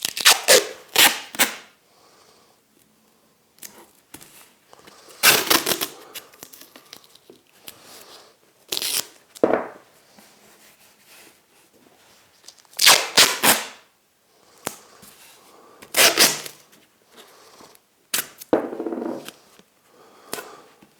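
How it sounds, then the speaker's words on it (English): Masking tape is torn and rubbed down over the mitre joint of a simple wooden drawer in bursts of crackly ripping and crinkling, with quiet pauses between strips. "I'm just going to put some tape over this end."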